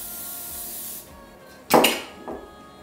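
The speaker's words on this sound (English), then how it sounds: "Gonna give it one more little spray." A short, sharp burst of cooking spray hisses close by onto a waffle maker, followed by a second quicker puff, with quiet room noise before it.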